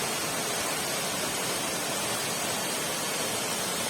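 Steady, loud rushing roar of a muddy yellow waterfall at Mendelikha waterfall park, a continuous close wash of falling water with no voices.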